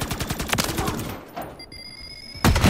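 Sniper gunfire in Modern Warfare Zombies cracks out in a quick cluster of sharp, loud shots, then fades to a thin ringing tone before another blast hits at the end.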